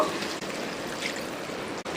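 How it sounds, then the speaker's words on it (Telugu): Water from a small glass pours into a mixer jar in a steady, close trickling stream lasting about two seconds, fairly quiet and with no talking. "మిక్సీ జార్లో ఒక చిన్న గ్లాసు నీళ్ళు పోసుకుంటున్నాను"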